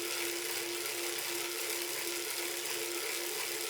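Steady whirring hiss from a Tacx Neo 2T smart turbo trainer at 200 watts, with a clear sustained hum tone under a faint mechanical rattle, constant and fairly quiet throughout.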